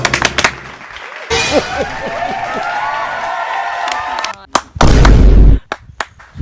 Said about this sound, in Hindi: भाई ताली होना चाहिए ताली।